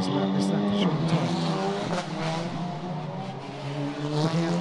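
TCR Asia touring race car on a flying qualifying lap at the Macau Grand Prix street circuit, engine note rising and falling through gear changes with a brief tyre squeal, heard steadily beneath continuous commentary.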